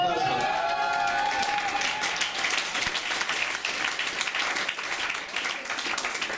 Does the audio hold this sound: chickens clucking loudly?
no